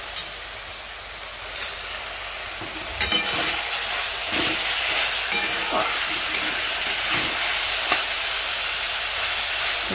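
Chicken posto masala with ginger paste, red chilli powder and cumin frying and being stirred in a pan: a continuous loud sizzle broken by scraping knocks of the spoon against the pan, no talking.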